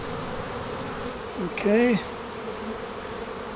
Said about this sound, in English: All of my boxes sitting over there in the wagon were being attacked by bees.